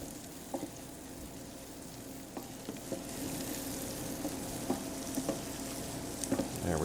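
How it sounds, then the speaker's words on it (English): Minced garlic, about three cloves, sizzles steadily in a pan while being stirred, a soft continuous frying hiss broken by light scraping clicks, alone without talk. "We're going to start by adding the garlic. About 3 cloves, minced up. Stir that in,"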